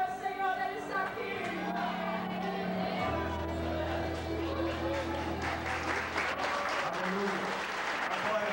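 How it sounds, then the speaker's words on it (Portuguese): Church congregation applauding during a missions worship service, a steady wash of clapping mixed with music and voices throughout, moderately loud and continuous. "Glória a Deus nas suas palmas."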